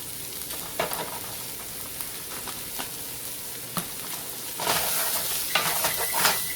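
Taco pasta with pepper stirred in a pot over the heat, a steady close sizzle and hiss with soft scraping spoon strokes that grow busier toward the end, and no voices.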